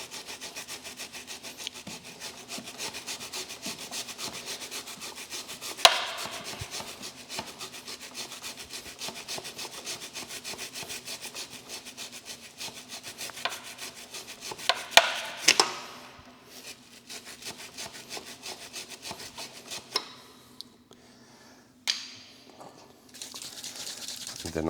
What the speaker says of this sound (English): make sure that you spin your rear tire. So you have 2 or 3 rounds in, and then start rubbing it.